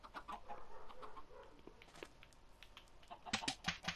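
A Minecraft chicken clucks in a survival game: several soft clucks over quiet game ambience, then a louder cluster of sharp clucks near the end, with no one talking.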